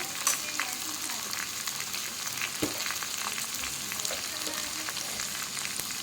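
Potato, onion and tomato with kasuri methi fry in a pan on a low flame, making a close, even crackling sizzle with a few light stirring taps.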